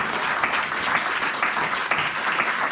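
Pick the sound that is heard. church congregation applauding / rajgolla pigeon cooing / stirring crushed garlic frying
church congregation applauding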